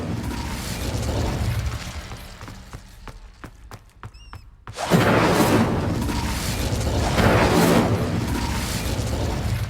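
An Incendio fire spell cast in Hogwarts Legacy, a sudden whooshing burst of flame that swells into a loud, sustained roaring crackle after a few clicking mechanical sounds and a brief near-silence.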